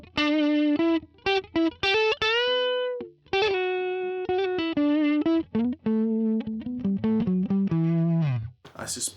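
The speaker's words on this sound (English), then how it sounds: "That is a really nice kind of tone for the neck pick." Electric guitar on its neck pickup plays a sequence of clear, sustained notes and short phrases through effects with light distortion and chorus, loud and close with brief gaps between phrases.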